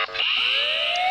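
Electronic alarm blaring in the horror game Ice Scream 8, a loud, continuous rising wail with sweeping tones that holds steady for over a second without pause.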